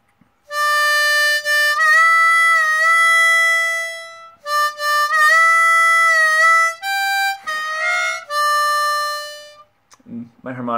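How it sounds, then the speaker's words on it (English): An old harmonica plays the intro phrase of a song, sustained bright notes with brief breaths between them, ending with a faint rustle. "My harmonica's a little old, but hopefully you get the sound of that."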